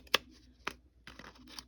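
Scissors fitted with a decorative edger blade, held upside down, cutting paper: a few crisp snips spaced out over under two seconds, close and fairly quiet, ending in a quicker cluster of small cuts.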